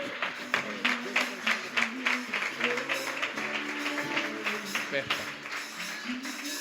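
A church congregation claps hands in a steady rhythm, the beats sounding over singing and music from a praise group, with voices mixed in throughout.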